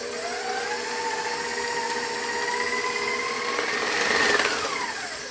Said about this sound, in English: I'm going to mix that up till it's really well combined